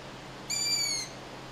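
Long-eared owl chicks high in treetops give a loud, thin, repeated whistling begging call, one sustained squeal of about half a second rising clearly above quiet background.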